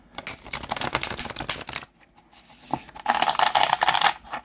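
A black core stock tarot deck is shuffled, giving rapid riffling card flutters in two bursts separated by a short pause, close and crisp.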